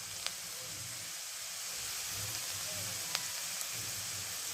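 Finely chopped garlic with turmeric frying in a pan for a Marathi shepu (dill) bhaji, a soft steady sizzle close by, with a few faint clicks and no talk.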